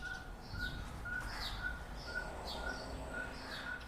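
Repeated bird chirps ring out at a steady rhythm over a constant urban hum in leafy, low-rise Dar es Salaam near the Indian Ocean, with higher calls chiming in between.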